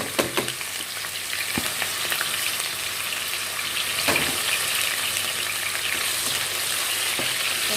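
Oil sizzles and crackles steadily in a saucepan as onion and garlic fry for egusi soup, with a few sharp clinks and stirring knocks over the even hiss.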